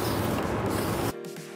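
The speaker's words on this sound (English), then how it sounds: "make sure to also spray your glass dish and wipe it down" A spray bottle of 70% isopropyl alcohol is aimed at a glass dish, giving one sustained, close hissing spray that cuts off abruptly, followed by a quieter tail.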